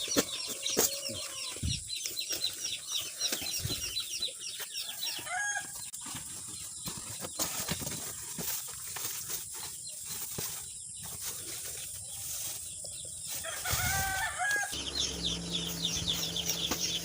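Chickens on a farm raising 45-day meat birds cluck and squawk continuously, with bursts of wing flapping and high chirps close by.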